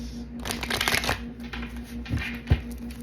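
Oracle cards are shuffled close by in quick riffling flurries, followed by a pause and a sharp tap as the deck is squared.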